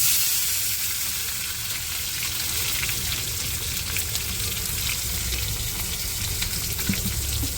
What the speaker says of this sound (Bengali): এবার এখানে দিয়ে দেবো আমি টমেটো কুচি